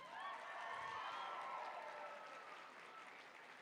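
An audience applauds performers at a live show, with sustained clapping and some cheering that slowly fades.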